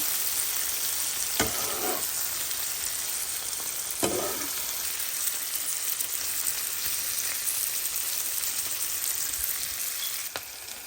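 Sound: gently stirring and turning frying vegetables in pan

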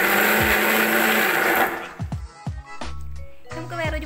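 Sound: mixer grinder briefly grinding chicken with onion, green chili, ginger

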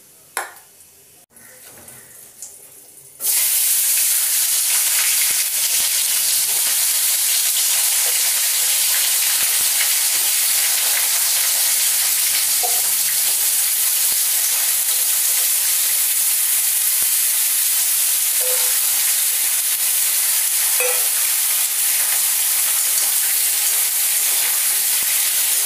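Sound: chopped vegetables frying with panch phoron in oil

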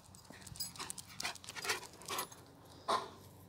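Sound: dog coming when called

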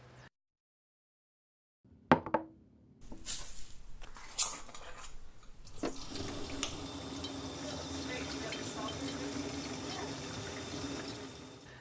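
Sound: water poured to mix with salt

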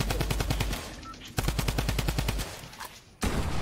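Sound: gunfire shooting an opponent in a video game

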